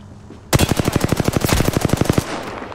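Gunfire in the video game Apex Legends: a close, loud rapid-fire burst of roughly twenty evenly spaced shots lasting under two seconds, with no talk.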